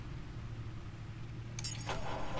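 The Batmobile's engine in the Batman Telltale game rumbles low and steady, then rises into a louder rev near the end.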